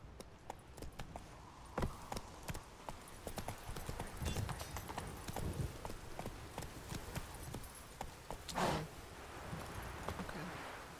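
Hooves of Roach, a horse in the video game Witcher 3, clip-clop in a steady walking rhythm on hard ground, with rustling and a louder thud midway, fairly quiet overall.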